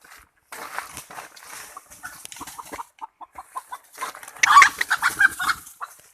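A wild red junglefowl rooster clucks in a string of short, soft calls, growing louder and more agitated near the end, heard close in a quiet forest during decoy hunting.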